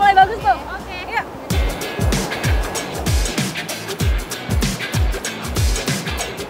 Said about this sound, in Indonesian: Iya, ombaknya udah mulai bagus tuh